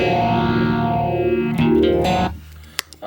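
An electric guitar plays through a phaser pedal set with feedback and resonance turned down: a sustained distorted chord rings and decays, then a second strum follows before being cut short, leaving a few clicks.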